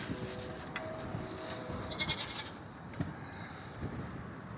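Goats in a stall, a few bleats rising over a low steady barn hum, fairly faint, with scattered rustles and no speech.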